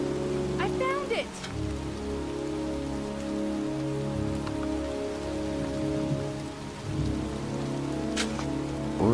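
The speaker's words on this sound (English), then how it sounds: "It's cold. It's raining." Steady, dense rain falls in a cemetery in the video game Heavy Rain, a constant close hiss of drops spattering on surfaces that runs unbroken from start to finish with no talking.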